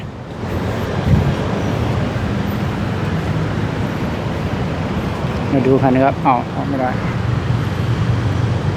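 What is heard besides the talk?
city road traffic jam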